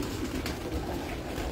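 Breeder pigeons coo softly inside a loft in Rawalpindi, a low murmuring burble that runs steadily throughout under faint background noise, with no voices.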